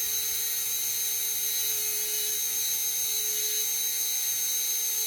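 Fine pointed diamond burr grinding the occlusal grooves of an Amber Mill dental restoration, a steady high-pitched whine held without a break, close and fairly loud, with no voices.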